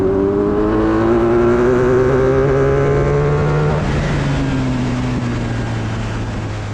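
Ariel Atom 4 with a Honda VFR 1200 V4 engine winding up in third gear, a loud close engine note climbing steadily in pitch, then a shift and a lower, smoother pull continuing on.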